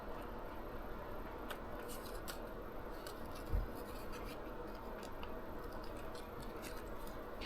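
Scissors cut out a paper figure on a magnetic Halloween play plate, producing faint, quiet snips and rustles with one brief soft thump midway, no voices.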